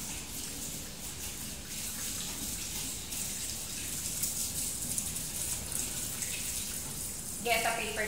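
Tap water runs steadily into a sink with a continuous hiss, splashing as hands are rinsed, and a brief clatter near the end.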